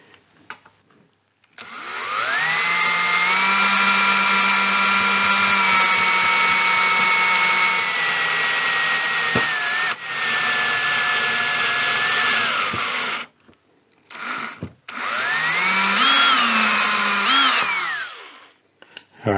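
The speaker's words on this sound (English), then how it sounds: "Now I'll open it up to 10mm with one of these step drills." A power drill with a step drill bit whines loudly in long runs as it bores through plastic on a 1938 Healing 448E radio, its pitch dipping and shifting, then stopping briefly before two shorter bursts.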